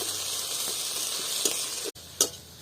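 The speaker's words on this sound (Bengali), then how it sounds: "লঙ্কাটা ভেজে নিচ্ছি" Green chillies fry in a wok with a steady, close, bright sizzle that runs throughout, broken by a couple of brief stirring clicks near the end.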